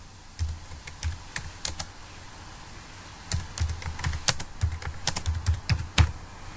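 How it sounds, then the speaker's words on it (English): Fingers type on a computer keyboard into a Word document, close and clear, with uneven bursts of key clicks separated by short pauses and no talking. "I will just type a few things in here."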